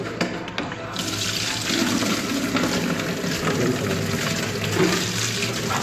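Chicken feet being rinsed under a running kitchen tap, a steady, loud hiss and splash of water that holds for several seconds after a few brief knocks at the start.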